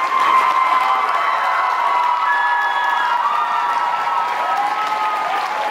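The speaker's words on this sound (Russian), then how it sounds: "Зал буквально взорвался аплодисментами, когда на сцене появились музыканты." Loud, sustained applause from a large concert audience in Khimki as the band takes the stage, with cheers and whistles rising over the dense clapping.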